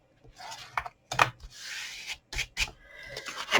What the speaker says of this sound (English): press it, let it settle a wee bit, and then give it a nice burnish